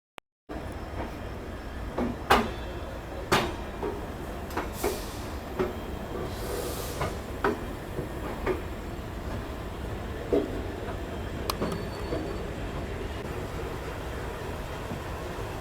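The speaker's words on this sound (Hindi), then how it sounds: "यहाँ हम लोग टेक्निकली 2 ट्रेन को ओवरटेक कर रहे हैं" Inside the sleeper class of the 12368 Anand Vihar–Bhagalpur Vikramshila Express, the train rumbles steadily at high speed while overtaking two other trains, with repeated clacks and thumps from passing rails and trains, no one talking.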